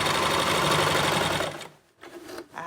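A serger overlock machine stitches and trims a fabric seam allowance, a loud steady whirring run that stops abruptly after about a second and a half, followed by brief quiet handling sounds.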